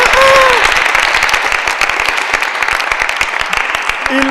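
An audience applauds after a choir finishes a song at an open choir event, a dense steady wash of many hands clapping together for several seconds, with a brief voice near the start.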